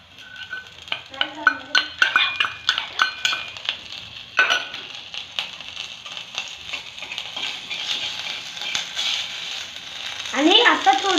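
A spoon stirs ghee and masala through chapati noodles in a pan on the stove: scraping and clinking strokes against the metal with a light sizzle, close and moderately quiet.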